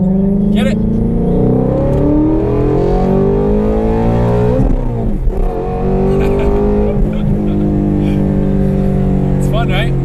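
A car engine revs hard toward redline under acceleration, loud and close from inside the cabin, pitch climbing, dropping briefly at a gear change, then rising again, with people talking over it.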